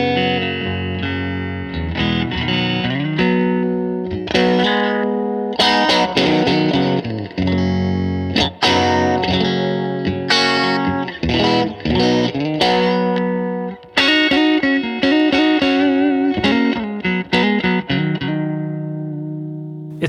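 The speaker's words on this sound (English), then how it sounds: "Let's go ahead and turn that guy off and just listen to the clean tone." A clean electric guitar tone through a Fender amp, busy picked chords and single-note phrases played steadily for twenty seconds, bright and upfront with no talking.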